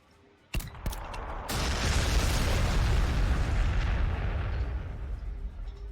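Cannon fire in the Warhammer 40,000: Sanctus Reach video game: a few sharp booming shots, then a long, heavy rumbling barrage of explosions that rolls on loudly and slowly tapers off.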